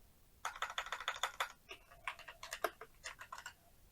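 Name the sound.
computer keyboard typing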